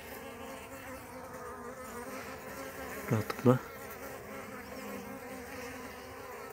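Honeybees at a hive during routine maintenance with thyme-water syrup feeding give off a steady, close buzzing swarm drone, with a short louder burst of buzzing midway and a brief faint word spoken.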